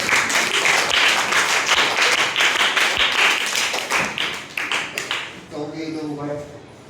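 Students in a classroom clap together for a globe-making activity, a dense, steady round of applause that thins out toward the end as a voice begins talking.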